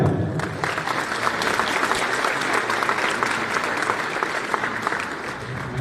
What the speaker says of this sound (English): a nice round of applause for the Mayor of Brownsville, Mr. John Cowan.